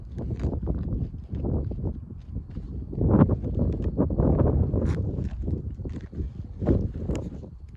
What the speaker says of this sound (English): And I'm sorry for this wind.